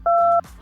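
A phone keypad sends a single short dual-tone dialing beep, clean and close.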